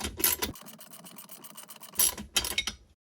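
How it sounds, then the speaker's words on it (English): A ratchet wrench tightening a 17mm bolt on a Sea-Doo 951DI jet ski engine gives a quick close run of clicking strokes, then a pause and two more short ratcheting bursts. "A ratchet style wrench. And I've got that 17mm bolt aligned and I'm securing it just shy of tight."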